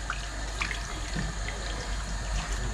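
Chicken stock (yakhni) is poured into a cooking pan over high flame for Moroccan spicy saffron chicken. It makes a steady, close liquid splashing and trickling with no one talking.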